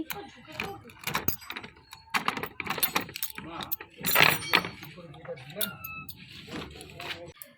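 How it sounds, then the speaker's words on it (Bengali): A bunch of keys jangles and clinks as the door to a mother-in-law's room is unlocked and opened, in irregular metallic bursts beneath someone talking. "এই যে আমার শাশুড়ি মায়ের রুম এখন আমি একটু খুলছি"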